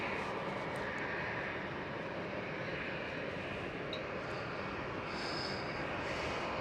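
A KLM Boeing 737 starting its engines at Amsterdam Schiphol, a faint, steady whining rumble from a distance with a few brief higher tones rising near the end.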